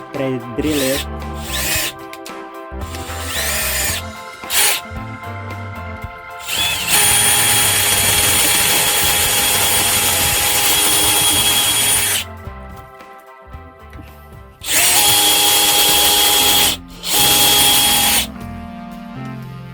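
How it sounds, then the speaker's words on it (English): A power drill whirs in several bursts while pre-drilling holes to mount a garage heater, a long steady run in the middle and shorter runs near the end, with clicks and handling noise between. "So I have to pre-drill it."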